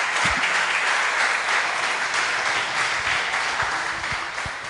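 Church congregation applauding in a Portuguese-language service, a dense wash of many hands clapping together, steady and fairly loud, then easing off slightly toward the end.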